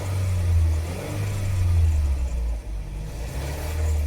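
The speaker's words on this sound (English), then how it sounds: "Now I'm revving it up." A car engine with an unresolved problem is revved up, a loud, close, low-pitched roar that swells and eases with each rev.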